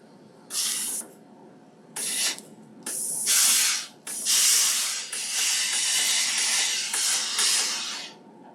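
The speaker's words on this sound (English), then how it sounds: "I'm doing a little quick shot of steam" A steam iron pressing fabric on an ironing board gives repeated short hissing bursts of steam, then a longer continuous spray, close and fairly loud with no talking.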